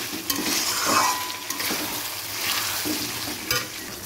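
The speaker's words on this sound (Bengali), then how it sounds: "মশলার সাথে আলুগুলো দিয়ে দিয়েছি, একটু কষে নিই" Potatoes being stir-fried in a spice masala, with a steady close sizzle broken by scraping stirs and occasional utensil clinks against the pan.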